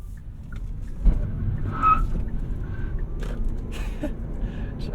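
A 2021 Hyundai Kona EV spins its tires under hard acceleration, giving a short, sharp squeal over a low road rumble, close and fairly loud.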